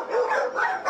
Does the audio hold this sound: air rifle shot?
no